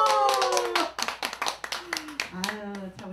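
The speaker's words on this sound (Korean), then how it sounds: "우리 이명진 대표님 뜨거운 박수 한번 주시기 바랍니다" An audience gives a short round of clapping for a host at a year-end gathering of a music fan club in a riverside tea house. The claps are scattered and come under a voice and a sustained sung note.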